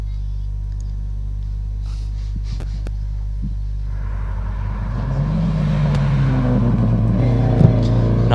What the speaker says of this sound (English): Another Subaru coming down now, driven by Marcus.